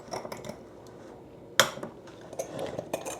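A spoon stirring chili flakes and sesame seeds in a bowl, giving soft scraping and light clinks against the dish, with one sharper clack partway through and scattered small taps, fairly quiet and close.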